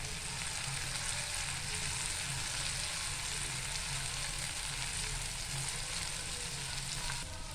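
Chopped green chillies and curry leaves frying in a pan for egg rice, a steady dense sizzle and spatter heard close up, unbroken and fairly loud throughout, with no talking.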